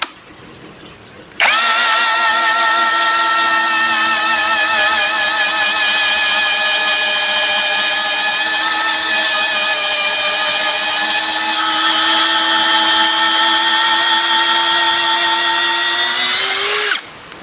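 Cordless power drill with a 10 mm auger bit spinning at low speed, a loud steady whine holding for about fifteen seconds with a slight pitch shift midway, starting and stopping abruptly.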